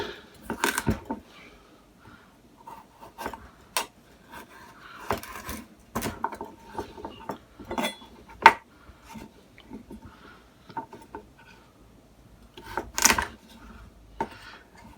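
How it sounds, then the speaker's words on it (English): Kitchen knife slicing a peeled carrot on a cutting board for a beef and mixed vegetable stir fry, giving a run of sharp, crisp chops at irregular intervals, close and clear, with quiet pauses between cuts. "So I'm going to cut the carrot up."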